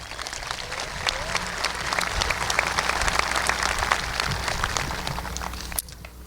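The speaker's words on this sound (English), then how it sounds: "Let's give her a round of applause." Sustained applause from the audience at a 2022 high school graduation ceremony in Celina, a dense even patter of many hands clapping that dips briefly near the end.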